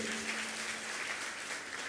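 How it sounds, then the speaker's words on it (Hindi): Audience at a Jain religious discourse in Barwani, Madhya Pradesh applauds, a brief, even wash of clapping with no speech over it. "एक बार तालियां तो बजा दो इन लोगों के लिए।"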